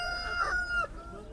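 A rooster crows loudly and close at an outdoor poultry market, one long drawn-out call that breaks off abruptly before the end.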